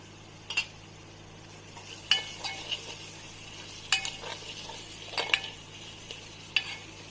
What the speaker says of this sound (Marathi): टोमॅटो मिक्स करताना,